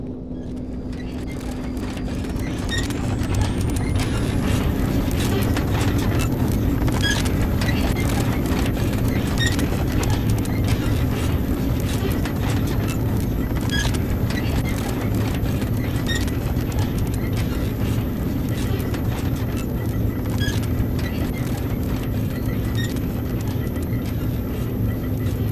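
A moving elevator car in the Roblox game, with a steady low mechanical hum and a continuous high whine running under regular faint clicks, loud and close throughout.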